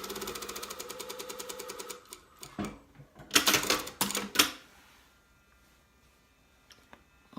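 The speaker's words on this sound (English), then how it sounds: "So the first thing I'm going to do is sew the shoulder seams" Sewing machine stitching the shoulder seams of a sandwich collar at a narrow seam allowance, from neck to shoulder: a fast, even run of needle clatter for two seconds, then scattered louder mechanical knocks and bursts before it falls quiet.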